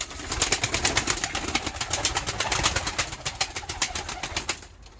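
Tumbler pigeons move inside a loft, giving a quick run of rhythmic fluttering, flapping bursts at moderate distance that fade toward the end, with no talking.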